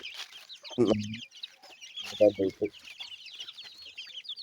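Many chickens cluck and chatter continuously nearby on a poultry farm, with two louder low clucking bursts standing out above the steady flock noise.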